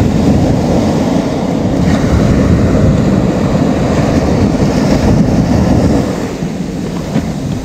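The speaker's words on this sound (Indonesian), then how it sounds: "Ada ombak sikit." Ocean surf on a beach during surfcasting rumbles as a loud, continuous wash, heavily mixed with wind buffeting the microphone, easing slightly toward the end.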